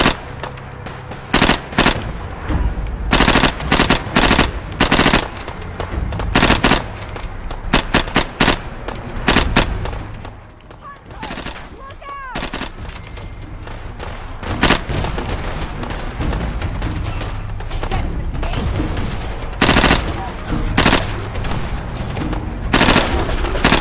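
Gunfire in the video game Fallout 4: Far Harbor, loud rapid bursts and single sharp shots in an irregular firefight, with short lulls between volleys.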